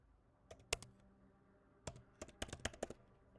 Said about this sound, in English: Let me type it for you guys.